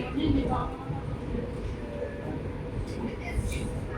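Palm Jumeirah Monorail carriage rumbles steadily during the ride, a low continuous rolling hum with people talking over it.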